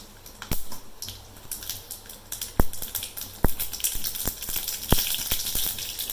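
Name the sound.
mustard seeds spluttering in hot oil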